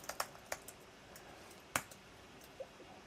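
Keys clatter on a computer keyboard while renaming layers in Figma, a few quick clusters of sharp clicks spaced irregularly, with a bigger burst near the middle and a lone tap toward the end, fairly quiet and close.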